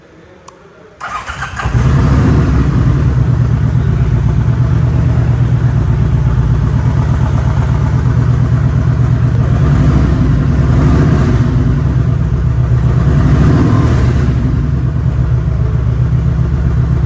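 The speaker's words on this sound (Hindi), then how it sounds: "चलें जरा इसको स्टार्ट करते हैं और इसका साउंड सुनवाते हैं आपको।" A 2014 Kawasaki Vulcan Voyager motorcycle engine cranks briefly, then catches and settles into a loud, steady, rumbling idle with slight swells in revs. The sound is close and continuous throughout, with no speech.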